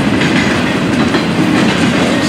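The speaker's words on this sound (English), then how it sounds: "The train has slowed down a little bit." An FEC freight train rolls past on the rails on a sunny summer afternoon, a loud, close, continuous rumble with steady wheel clatter and no pauses.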